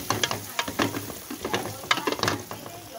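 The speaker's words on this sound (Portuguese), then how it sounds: "Agora eu vou jogar aqui a linguiça calabresa. Bem picadinha. E vamos deixar ela fritar bem fritinha." Finely chopped calabresa sausage frying in a pan for farofa, heard as close crackling sizzle broken by rapid clicking scrapes of stirring over about three seconds.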